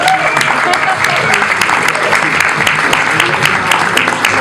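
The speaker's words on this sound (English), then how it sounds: "A round of applause for Johannes." Audience at a stand-up comedy show applauding a comedian, a dense burst of clapping throughout, with a voice talking over part of it.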